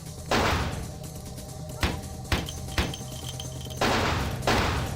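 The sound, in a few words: gunfire in the video game Vampire: The Masquerade - Bloodlines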